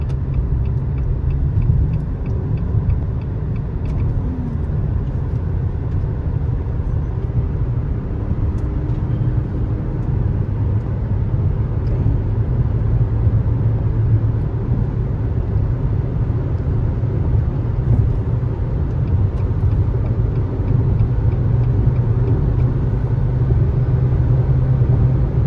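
Steady, loud road rumble of a car on a long highway drive toward Lethbridge, Alberta, with low engine drone and tire noise unbroken for the whole stretch and no talking.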